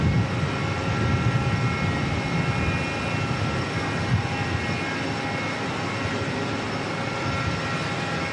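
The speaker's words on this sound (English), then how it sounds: "916 heading back to San Francisco" A United Airlines airliner, flight 916, departing Auckland Airport for San Francisco, a loud steady jet engine roar with a continuous broadband rush that holds throughout.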